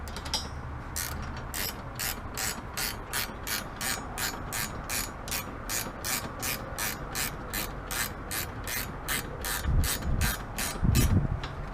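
A ratchet tightens bolts while a Braum racing seat is installed in a Nissan 370Z, giving a steady run of close, crisp clicks at an even rapid pace, with some low rumble and wind near the end.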